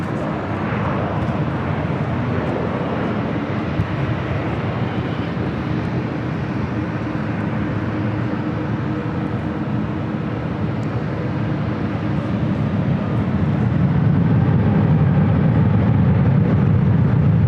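A heavy jet airliner takes off from runway 24 left at LAX, a loud, steady roar of engines that builds toward the end, close and continuous with no talk over it.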